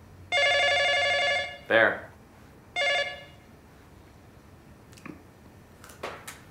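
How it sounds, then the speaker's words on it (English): An old landline telephone rings in a domestic setting: two bursts of a bright electronic bell tone, each about a second long and separated by a short gap, loud and close, with a brief spoken word and small handling noises afterward. "Telephone's ringing"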